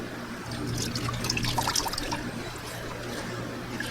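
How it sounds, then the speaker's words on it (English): Water trickles and drips as cotton ribbon is squeezed out over an indigo dye bath, a steady watery patter with scattered splashy drops over a low background hum. "I squeeze out the excess water because I don't want to introduce any more oxygen than I have to into the dye bath"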